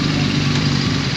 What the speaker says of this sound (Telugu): సౌండ్ అయితే క్రేజీ ఉంది. 2 సూపర్ బైక్స్ ఉన్నాయి మధ్యలో.